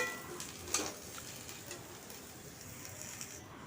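Ridge gourd and potato slices frying in a pan with a faint, steady sizzle and a light stir near the start; quiet throughout.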